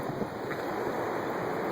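Floodwater of the DuPage River rushing over its banks at the Naperville–Bolingbrook border on Weber Road, a steady broadband roar of fast rapids with wind buffeting the microphone, no voices.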